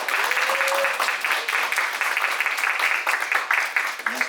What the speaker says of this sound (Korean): 네, 박수 힘차게 쳐주세요.